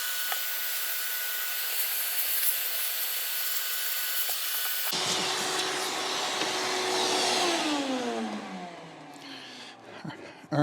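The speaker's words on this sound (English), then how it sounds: "I'll just use the shop vac, get all this out of the way, and clean it." A shop vac cleans debris out of a Stihl chainsaw, first with a steady whine, then with a shift to a rougher rushing suction as the nozzle scrapes and moves around the saw, fading near the end.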